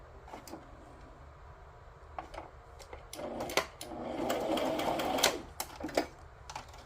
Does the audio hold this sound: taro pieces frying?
no